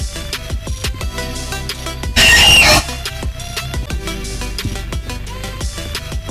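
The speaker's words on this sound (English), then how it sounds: "here comes our gold elf friend Screech." Screech, the monster in the Roblox game Doors, lets out a loud, piercing squeal lasting about half a second over steady game music and effects.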